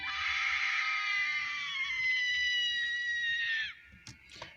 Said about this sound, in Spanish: se escuchó un grito muy aterrador